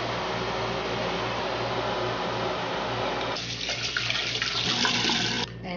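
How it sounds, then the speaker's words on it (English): Clear beef broth for Korean jangjorim being strained through a coffee filter, a steady liquid pour and trickle that thins and splashes more unevenly toward the end, close and continuous without talk. "With the coffee filter I'm using because I need a really clear, really delicious broth."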